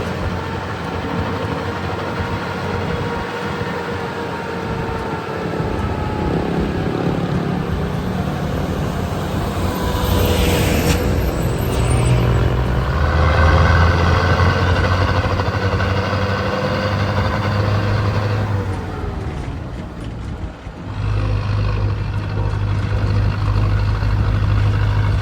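A bus engine drones steadily throughout a mountain ride between Medan and Kabanjahe, Indonesia, a low rumble swelling and easing as it shifts, with road noise and rattles inside the cabin.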